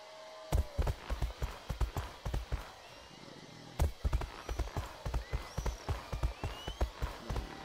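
Horse hooves clip-clop in a steady, fairly close rhythm, with a louder knock near the start and another near four seconds, over a quiet background with no talking.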